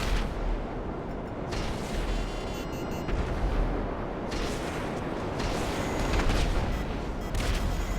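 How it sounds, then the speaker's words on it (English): Explosions and weapon fire boom almost without pause during a player-versus-player fight in the video game GTA Online. The dense, rumbling blasts hold loud for the whole stretch with no talk. "bam, my missile made the connection"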